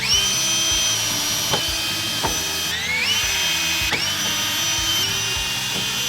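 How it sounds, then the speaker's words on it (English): A handheld power drill runs loudly while removing screws from garage cabinets, a high whine that dips and surges in several bursts of trigger pressure. "It's easy when you got a power tool."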